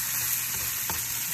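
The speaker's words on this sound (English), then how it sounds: "Now, I will be adding in my ackee." Ackee frying in hot oil in a pan gives a steady, close sizzle for the whole short moment, with one soft stir or clink partway through.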